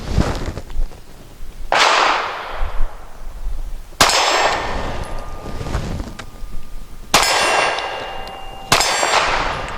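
SCCY CPX-2 pistol fired at a steel target 15 yards away: four sharp, loud reports spaced a couple of seconds apart, each followed by a ringing metallic clang from the struck plate that fades slowly.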